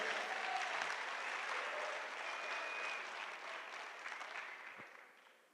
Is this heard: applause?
yes